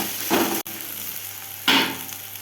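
Sliced onions with a little salt fry in oil, giving a steady loud sizzle broken by a sharp click, with two bursts of stirring that swell the crackle.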